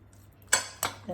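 A pot lid set down over a dish of marinated baby shark fish in a home kitchen, heard as two sharp metallic clanks close by, followed by a softer knock.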